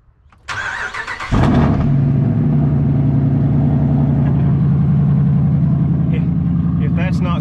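A vehicle engine cranks briefly, catches, and settles into a steady, loud rumbling idle close by, with faint voices in the background.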